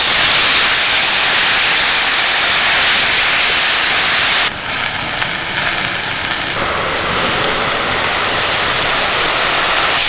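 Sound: coriander leaves frying lightly in white oil

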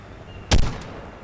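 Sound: gunfire shooting at allosaurus in ARK Mobile video game

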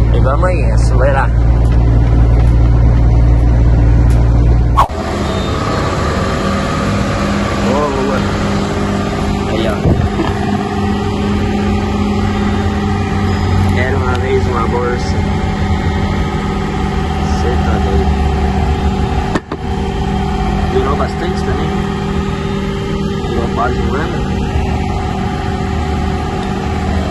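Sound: Mercedes-Benz Atego truck engine accelerating

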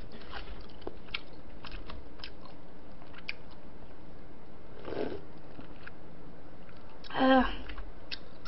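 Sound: loud chewing while eating

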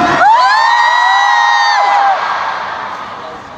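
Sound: concert crowd screaming

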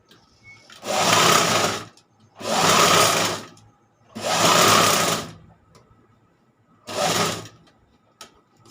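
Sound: sewing machine stitching fabric

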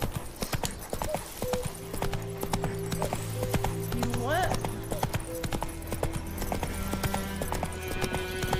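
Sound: horse galloping in The Witcher 3: Wild Hunt video game

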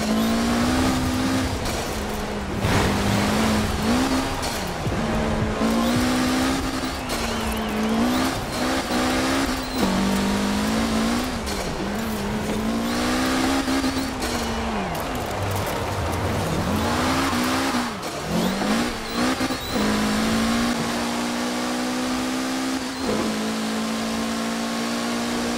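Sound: Mitsubishi Evo car engine racing in video game Forza Horizon 4

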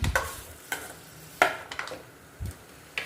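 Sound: tomatoes frying and being stirred in hot oil

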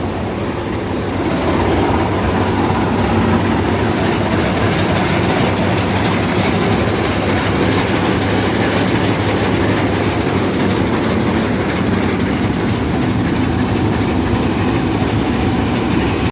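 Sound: Palesse 812SX combine harvester running

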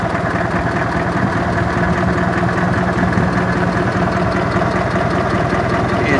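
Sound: Minneapolis M670 LP tractor engine idling

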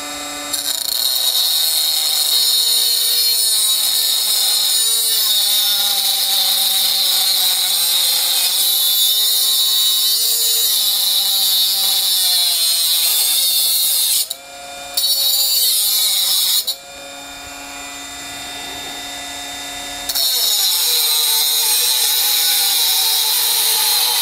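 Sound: Bosch 12V cordless angle grinder running under load

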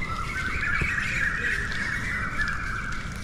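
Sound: sparrows chirping on a rainy morning at Mahabalipuram

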